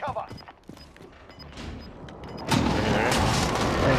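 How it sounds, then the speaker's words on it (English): Precision airstrike explosions in Call of Duty: Rebirth Island, with scattered gunfire and faint voices early on, then a loud sustained blast and rumble from about 2.5 seconds that fills the rest of the clip. "Enemy precision airstrike. Take cover."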